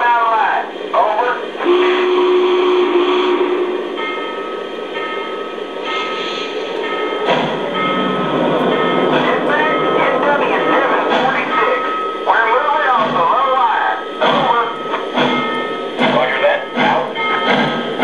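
Lionel 746 J Class model steam locomotive gives a whistle, then chuffs steadily with hissing steam, heard under close talking.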